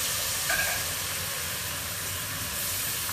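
Gin poured into a hot pan with chicken brings a steady, close hiss and sizzle that holds evenly for a few seconds.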